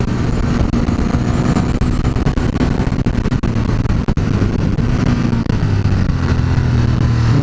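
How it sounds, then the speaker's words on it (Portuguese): Ducati Monster 1200 S motorcycle on a test ride, its engine roaring steadily up close with rising and falling revs and wind rush, continuous and loud. "olha como anda essa moto"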